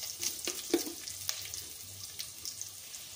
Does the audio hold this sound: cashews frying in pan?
yes